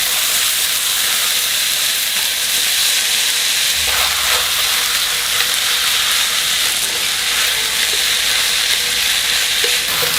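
Fish cake and mushrooms stir-fry with oyster sauce, mirin and oligosaccharide syrup in a hot pan, a loud continuous sizzle with faint stirring scrapes, close and unbroken.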